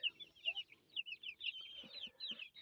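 Young broiler chickens cluck and peep softly in a warm indoor brooder, their high chirps overlapping steadily at close range with a few low clucks underneath.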